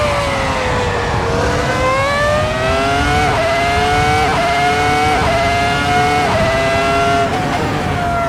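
V10 Formula 1 race car on track, its engine wailing loud and close in a high, rising howl, with repeated pitch jumps at each gear shift as it accelerates through the lap.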